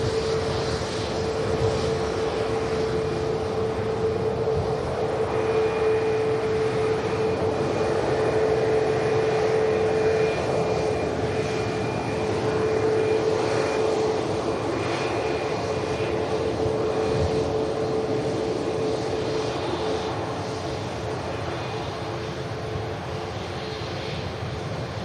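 A Virgin Airbus A350-1000 lifts off the runway at Manchester Airport, giving a loud, steady jet-engine roar with a sustained whine that holds throughout and eases slightly near the end.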